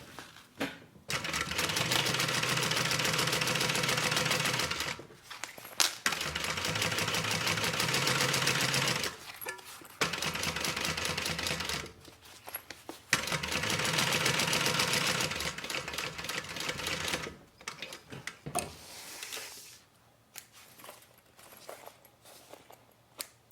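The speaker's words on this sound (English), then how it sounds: "So I'm just going to do a quick basting here." A sewing machine runs a quick basting stitch on a thigh bag, buzzing loudly and close in several long bursts separated by short pauses.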